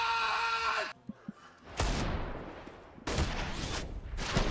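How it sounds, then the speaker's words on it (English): Desert Eagle pistol fire in a CS:GO match: sharp, loud gunshot cracks separated by short gaps, with quieter game sounds between them and no talk over the shots. "2 Deagles on that bomb site."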